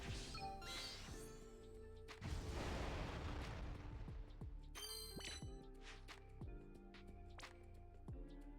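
Ifrit's summon attack in the mobile game Final Fantasy Brave Exvius unfolds as a string of sharp impacts, a rushing fiery burst and ringing chimes, layered with game music and fairly quiet overall.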